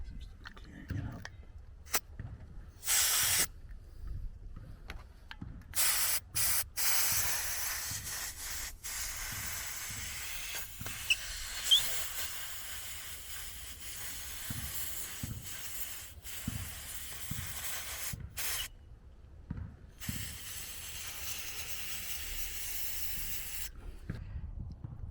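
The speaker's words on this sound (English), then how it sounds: "I'm going to use some air spray to make sure there's nothing left in the gap" Compressed air spray blasting short hissing bursts into a body gap on a 2021 Ford Transit during a water-leak repair, repeated spurts of varying length with quiet pauses between them, close and sharp.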